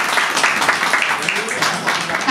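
An audience at an evening launch event for a new business app applauds, brief continuous clapping heard close with voices mixed in.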